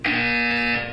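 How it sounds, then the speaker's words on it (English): A harsh electronic buzzer in the Portal 2 video game sounds once, a loud steady tone lasting nearly a second before cutting off. "You will hear a buzzer."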